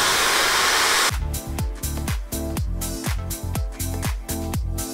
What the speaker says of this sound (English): just get in there with the blow dryer as close as possible